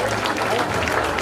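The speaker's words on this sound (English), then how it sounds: "request all of you to give a round of applause to all their friends" A crowd at a graduation ceremony applauds in a brief, loud burst of dense clapping with a reverberant hall sound.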